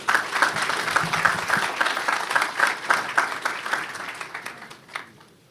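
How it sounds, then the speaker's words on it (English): Audience applause at a Magic City Classic football press conference for Alabama A&M versus Alabama State, steady clapping from a modest crowd that gradually fades out. "One more round of applause, please, for President Mike Sucko"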